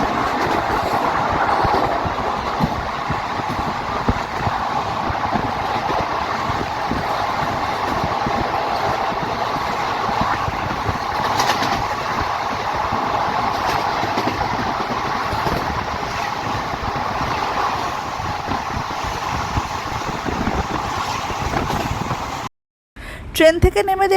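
A train ride to Muradi station: a steady, loud rumble and rattle of the moving train runs throughout and cuts off abruptly just before the end.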